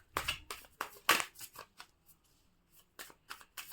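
Tarot cards riffled and shuffled by hand in a series of quick, crisp bursts at close range, with short pauses between rounds and no talking.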